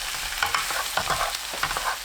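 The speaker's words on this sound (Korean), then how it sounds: "양념이 동그랑땡에 모두 스며들 때까지 볶으시면 돼요" Dongeurangttaeng meat patties are stir-fried in a pan with seasoning, bringing soft sizzling under repeated scraping strokes of a spatula, close and fairly quiet.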